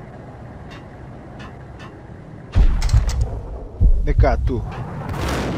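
Gunfire in the Max Payne video game: several loud, heavy shots in two bursts over a constant background hum, with a brief spoken line in the clip.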